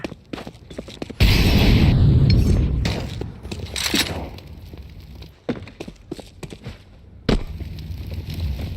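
An incendiary grenade thrown in Counter-Strike 2 erupts into a loud, roaring burst of fire that crackles and fades over a couple of seconds, followed by scattered mechanical clicks and footsteps and another sharp thump near the end.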